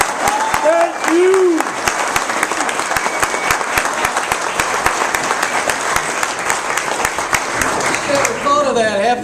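A crowd applauds a speaker being introduced at a political event, loud dense clapping sustained throughout with cheering mixed in and someone talking near the end.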